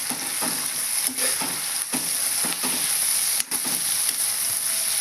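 Goru chikkudu, or cluster beans, stir-fry in oil with a steady sizzle broken by regular spatula scrapes and stirs every half second or so, close and fairly loud.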